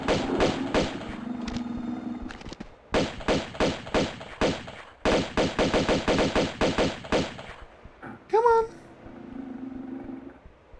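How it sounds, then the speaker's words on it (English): Rapid bursts of gunfire fire at a shark in the video game Tomb Raider 2 Remastered, loud close volleys in several clusters separated by brief gaps, with a low droning hum and a short rising creature cry near the end. "Just shoot him from up here with the real guns."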